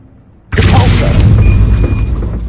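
Depulso spell cast in Hogwarts Legacy: a sudden loud booming blast strikes after a brief quiet moment, then rolls on with a dense rumbling burst and ringing tonal shimmer.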